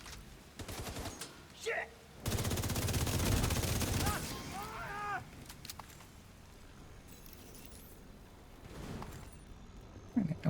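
Light machine gun fire in a tactical shooter comes as a dense, sustained burst of rapid shots for about two seconds, flanked by scattered single shots, with a voice briefly cursing and game chatter around it.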